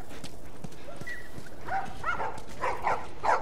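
Dogs barking in the video game The Last of Us, several sharp yaps rising toward the end over a faint background of game ambience.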